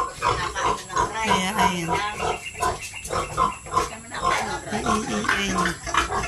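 A sow on a farm grunts and snorts in a rapid, uneven series close by, while a person speaks briefly over the noise.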